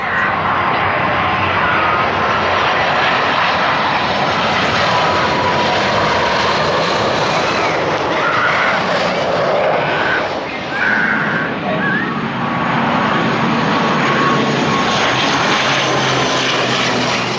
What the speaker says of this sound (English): So for now, here's some plane shots.